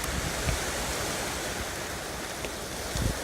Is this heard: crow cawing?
no